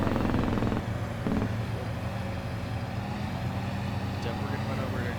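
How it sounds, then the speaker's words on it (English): A loud truck engine drones steadily in Farming Simulator 22, a low continuous rumble with a brief shift in tone near the start, under someone talking. "This truck is pretty loud"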